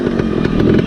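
A street-legal two-stroke motorcycle engine buzzes loud and close with a steady, raspy, chainsaw-like drone and no voices.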